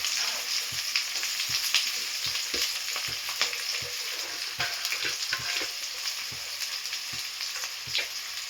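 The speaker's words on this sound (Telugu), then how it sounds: "ఇప్పుడు సన్నగా తరిగిన ఆనియన్స్, పచ్చిమిర్చి, కరివేపాకు అన్నీ కలిపి వేసుకోండి" Chopped onions, green chillies and curry leaves fry in hot oil with a steady, loud, close hiss of sizzling, punctuated by regular dull taps of a stirring spoon, without talk.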